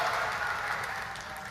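Applause in a Spanish legislative session chamber after a vote result is announced, a dense, steady wash of clapping that fills the room and tapers off slightly toward the end, with no voices over it.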